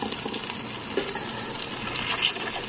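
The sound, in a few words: frying eggplant in a pan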